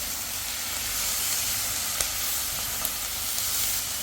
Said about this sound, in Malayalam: ഇതിലേക്ക് ഞാൻ എടുത്ത് വെച്ചൊരു കാഷ്യൂനട്ട് അണ്ടിപ്പരിപ്പ് ഇട്ട് കൊടുക്കുകയാണ്.